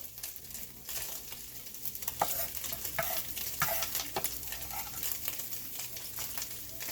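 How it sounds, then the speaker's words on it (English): Green peppers, onions and garlic cook in a pan for a cabbage roll casserole, a steady close sizzle and frying hiss with repeated spatula stirring clicks and scrapes, no talking. "add in the green peppers, the onions, and the garlic and cook for about 3 to 4 minutes"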